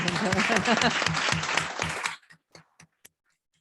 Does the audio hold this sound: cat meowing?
no